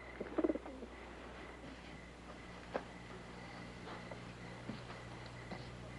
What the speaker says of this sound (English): You entrusted the Miloslav document to a carrier pigeon